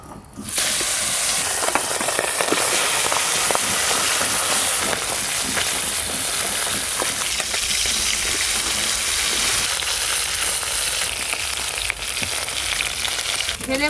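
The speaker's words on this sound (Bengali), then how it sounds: "এবার ভেলে মাছগুলো টকের জন্য ভেজে নেব।" Vele fish fry in a pan of hot oil, a close, continuous loud sizzle and hiss with occasional crackles that runs unbroken throughout.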